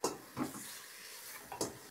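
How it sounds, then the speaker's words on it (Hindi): Mutton and spice masala are stirred in a pressure cooker for a Punjabi-style mutton turnip dish, giving soft, faint scraping strokes at a slow, uneven rhythm with a light sizzle underneath. "गोश्त और मसाले को थोड़ा सा मिक्स करने के बाद"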